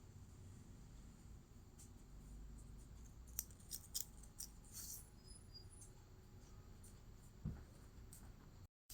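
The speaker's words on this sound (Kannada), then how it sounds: "ಇಲ್ಲಿ ಫ್ರಂಟ್ ಆರ್ಮ್ ಹೋಲ್ ಕಟ್ ಮಾಡ್ಕೊಳ್ಬೇಕು." Scissors cutting the front armhole of blouse fabric, a few faint, sparse snips and slides against a low steady hum, quiet and close.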